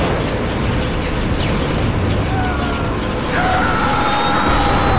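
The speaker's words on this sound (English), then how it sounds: "Whoa, explosions everywhere." Explosions in the video game Spec Ops: The Line form a loud, continuous roar of blasts and rumbling debris, with chaotic game noise swelling near the end.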